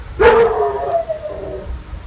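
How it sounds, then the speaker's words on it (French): A dog yaps and howls once, close and fairly loud, a high drawn-out cry that rises and trails off over about a second, with quiet background after. "Mon chien il jappe."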